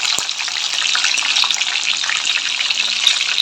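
Fenugreek, green chilies and garlic frying for fish curry, a dense, continuous high hiss of oil sizzling close and loud, steady throughout with one faint knock early on, no talk.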